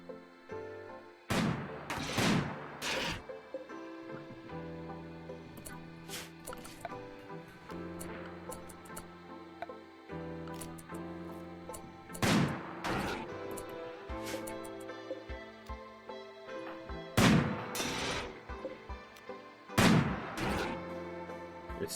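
Colonists in RimWorld focus their gunfire on one target: a few separate clusters of sharp shots, each a brief volley, come at intervals over steady game music, moderately loud and without speech.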